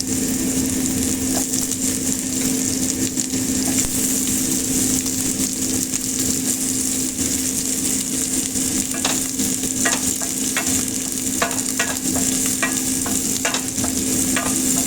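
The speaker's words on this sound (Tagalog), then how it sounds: "Ang ginamit ko pang-isa is butter." Red chili, onion and garlic sauté in butter with a steady sizzle and crackle, and sharp scrapes of stirring grow more frequent toward the end.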